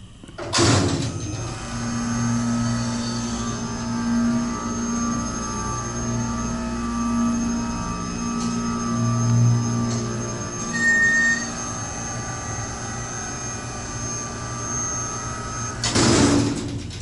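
A Tejas hydraulic freight elevator in a mechanical engineering building at UT Austin: a door clanks at the start, then a steady droning hum with tonal whines runs throughout, and another door thump closes it out, with no talk.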